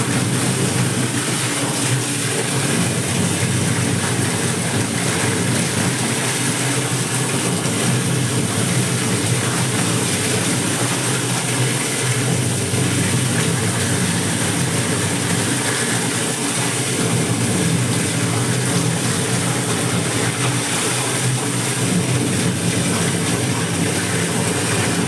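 A washing machine running with a steady, unbroken mechanical whir and hum that holds at an even, fairly loud level throughout.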